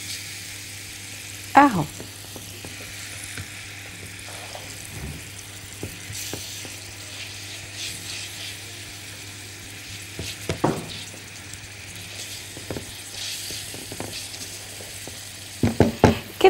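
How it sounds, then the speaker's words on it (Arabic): Garlic and onion frying together in a pan while being stirred, a steady low sizzle with scattered scraping clatters from the stirring, and a brief spoken word. "هنزل بالثوم والبصل في نفس الوقت، يعني مره واحده نقلب نقلب نقلب"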